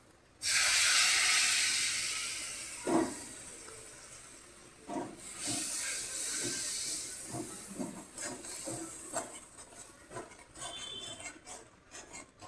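Yogurt, cashew and mace paste poured into a hot frying pan for a fish curry, bursting into a loud, sudden hiss that slowly fades into softer crackling and sputtering pops.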